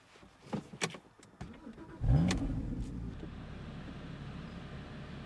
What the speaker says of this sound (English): Okay, shall we take it for a drive